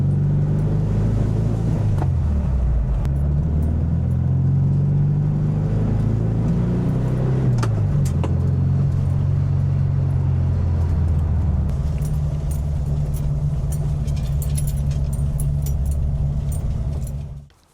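A 1968 VW Fastback air-cooled engine cranks, catches and settles into a steady, loud idle with a couple of revs, close by, before cutting off abruptly at the end.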